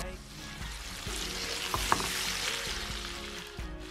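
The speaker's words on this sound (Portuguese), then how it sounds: "Aí eu vou deixar essa cebola dar uma refogadinha aqui" Onion sautéing in margarine with a little olive oil, a soft continuous sizzle close by with occasional stirring scrapes and a couple of sharp utensil taps on the pan.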